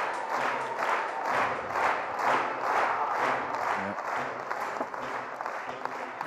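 An arena crowd at the 2023 FACEOFF main event final cheers and claps in a loud, rhythmic pulse, steady beats of unison clapping riding over a constant roar.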